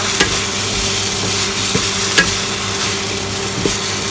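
Instant noodles with vegetables and basil being stir-fried in a pan, a steady loud sizzle with periodic scraping and clacking strokes of the spatula, close up with no talking.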